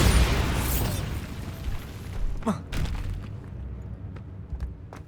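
A Bombarda blasting spell goes off in Hogwarts Legacy, a booming burst that rolls into crackling debris and scattered pops, fading over several seconds.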